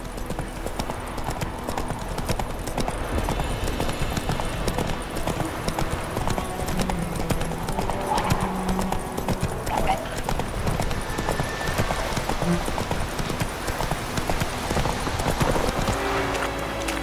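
Roach, a horse in The Witcher 3, gallops with steady, rapid clip-clopping hooves over a continuous game soundscape for the whole stretch, loud and close, with no one talking.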